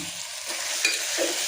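Vegetables for pulao, including carrot, cucumber and fresh peas, are stirred and fried in a pan, giving a close, steady sizzling hiss with soft scraping.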